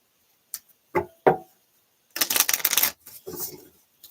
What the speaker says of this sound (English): Get a good shuffle on these cards